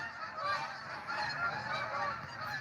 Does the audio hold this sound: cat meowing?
no